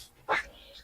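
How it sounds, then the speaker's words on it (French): A dog named Monsieur Swan whimpers once, a brief soft whine as it climbs the stairs up to the workshop, heard faintly and close in a quiet room. "C'est mon chien Monsieur Swan, qui monte"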